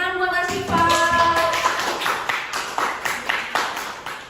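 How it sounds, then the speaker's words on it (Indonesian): Classroom applause for a student in an arts class: a small group claps in a steady, rhythmic pattern of sharp, close hand claps, following a brief voice at the start. "Tepuk tangan buat Ashifa."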